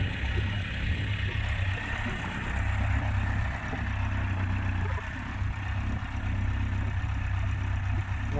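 A Yamaha FJ1200 four-cylinder motorcycle engine runs at a steady idle, a smooth, even low hum that holds constant throughout with no talk over it.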